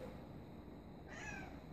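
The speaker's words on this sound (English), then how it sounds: "This is for my dog, and this is my cat, Margie." A pet cat gives a single short meow about midway through, faint and close, over a steady low room hum with no talking.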